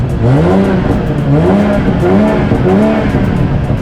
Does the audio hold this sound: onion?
no